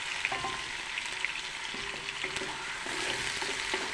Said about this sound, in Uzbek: Tez qovuramiz.